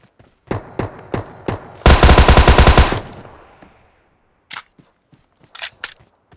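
Rapid bursts of automatic gunfire from a shooter video game, a dense volley of loud, evenly spaced shots at close range, followed by a few sharp isolated shots.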